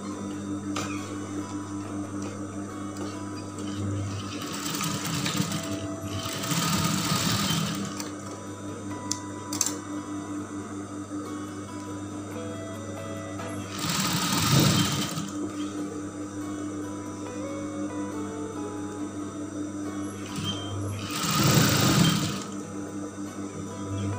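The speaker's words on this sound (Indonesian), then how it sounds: "lalu ini kita jahit untuk bagian bawah ini. Kita jahit sampai bawah seperti ini." A sewing machine stitching the lower part of a mermaid dress, running in a steady hum with several louder bursts of fast stitching between quieter pauses.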